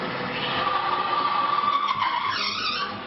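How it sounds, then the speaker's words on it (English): A friction testing machine grinds metal against metal to demonstrate engine oil protection, producing a sustained, loud squeal whose pitch wavers and shifts toward the end, with nobody speaking. "This is a friction machine. It will simulate an example of a metal-to-metal contact"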